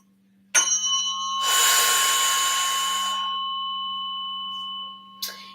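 A tuning fork rings during a biofield tuning session, struck twice with a bright metallic tone that swells into a sustained shimmering hum, slowly fades, then is tapped again briefly at the end.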